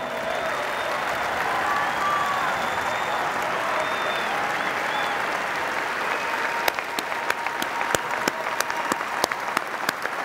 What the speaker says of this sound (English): I want you guys to stand up and give yourselves a round of applause.